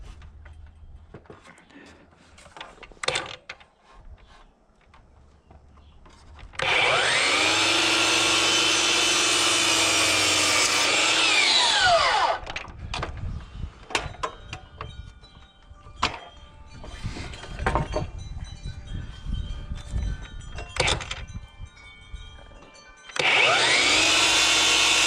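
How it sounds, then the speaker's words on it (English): A miter saw slices through wood for a gazebo build on site, a loud sustained whining cut of several seconds with the blade spinning down, then clattering handling noises before a second cut starts. "I got a miter saw on site, so might as well get the cleanest cut possible"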